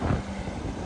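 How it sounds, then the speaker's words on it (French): Strong wind blows outdoors in Florida, buffeting the microphone with a low, rumbling roar that stays steady through a very brief moment, with no voices. "Le vent qu'il y a par contre, oh là là, comment ça souffle."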